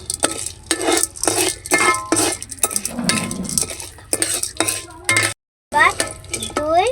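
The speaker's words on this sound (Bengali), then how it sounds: "আমি ভুট্টার দানা দিয়ে দেব। এবার আমি নাড়াবো।" Corn kernels being stirred in a pan for popcorn, a spatula rattling and scraping against the metal in repeated quick strokes over a light sizzle, close and fairly loud, with one brief gap.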